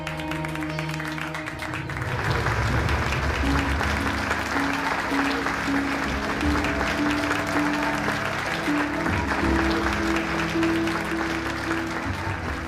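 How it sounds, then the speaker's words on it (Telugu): An audience at a stage event bursts into loud, sustained applause after a short lead-in of talk and music, many hands clapping densely close by over a steady musical tone. "గట్టిగా చప్పట్లు కొట్టి ఆ పాప మనోబలాన్ని పెంచండి"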